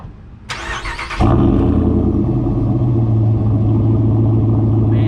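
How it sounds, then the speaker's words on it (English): A 2019 Ram truck with resonator and muffler delete cranks and fires into a deep, loud, steady rumbling idle, recorded close from behind the truck. "go ahead and start it up while we're back here. This is obviously a warm start"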